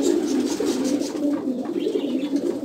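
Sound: pigeons cooing at the loft after a race

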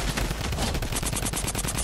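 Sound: gunfire from the video game Fortnite

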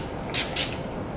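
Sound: Urban Decay All Nighter setting spray being sprayed

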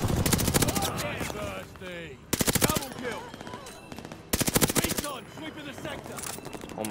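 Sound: gunfire in the video game Call of Duty Vanguard

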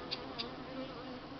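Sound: local honeybees buzzing at the hive

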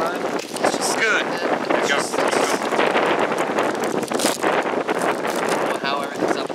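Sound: big gust of wind blowing everything outdoors

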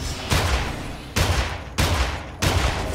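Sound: gunshots in Immortal Redneck video game

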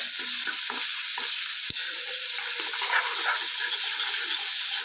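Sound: roasting black chili masala for mutton in a pan

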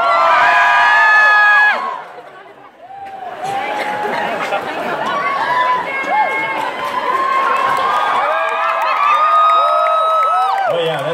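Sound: concert crowd screaming and cheering

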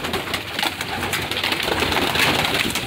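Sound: pigeons cooing in a loft

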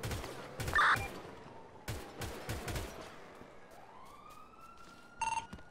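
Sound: police car siren in video game GTA V

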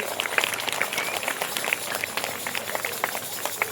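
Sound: schoolchildren applauding a student

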